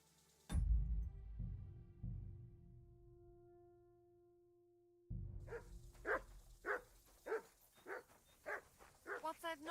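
A dog barks repeatedly in the video game Kingdom Come Deliverance 2, a run of short, sharp yelps closely spaced toward the end, following a sustained tonal hum and some scattered thumps.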